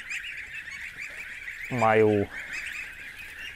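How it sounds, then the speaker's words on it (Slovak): A young farm duck gives a single loud, honking quack about halfway through, with a background hiss and quiet talk around it. "v podstate o týždeň staršie kačky"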